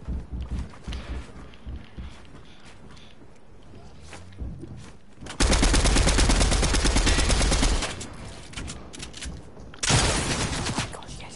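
MK7 assault rifle in Fortnite fires in long, loud automatic bursts, close and sustained for a few seconds, then another burst after a short pause, with quieter footsteps and game sounds between.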